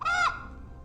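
A single short, nasal honking bird call rings out clearly, then fades into a quiet background.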